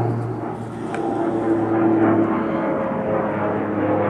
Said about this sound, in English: that airplane shouldn't really be in my video